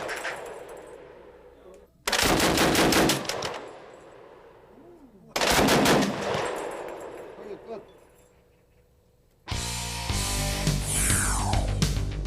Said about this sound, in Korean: 네발 사격 실시.